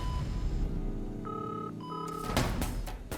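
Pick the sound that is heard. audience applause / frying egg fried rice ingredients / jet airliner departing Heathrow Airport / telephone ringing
telephone ringing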